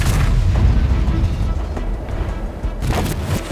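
A tank cannon fires in the World of Tanks video game, a loud booming blast followed by a rumbling decay, with a second, sharper burst near the end.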